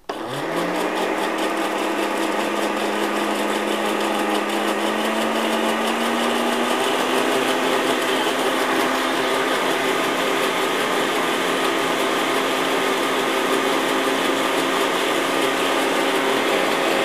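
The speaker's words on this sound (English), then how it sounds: "I put it in the blender." A blender spins up and whirs steadily, mixing two garlic cloves for a salad dressing, with its motor pitch rising slightly in the first seconds and then holding a loud, continuous high whine.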